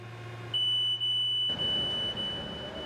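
A tanker's cargo-tank high-level alarm, part of the vapour emission control system onboard, sounds as a steady, piercing electronic tone held for about two seconds over a low background hum.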